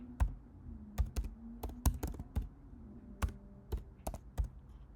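Typing on a computer keyboard, with irregular clusters of crisp key taps at close range over a soft background hum, and no voices.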